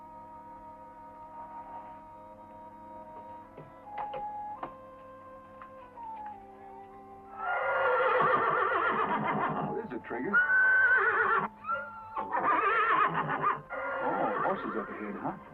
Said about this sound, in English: Oh, horses up ahead, huh?